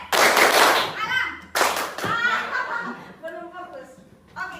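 Group of people clapping hands together in bursts during a morning classroom activity, sharp claps mixed with laughter and chatter close by.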